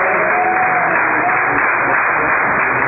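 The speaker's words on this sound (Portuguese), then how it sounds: "Você bate mais palmas da glória a Jesus" A church congregation claps steadily during a Pentecostal worship service, producing a dense, continuous wash of many hands that sounds slightly muffled and stays even in loudness throughout, with no talking over it.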